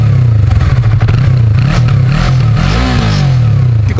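Yamaha MT-03 motorcycle engine revving close by, a loud, steady low drone that swells into a brief rising rev near the end before settling again.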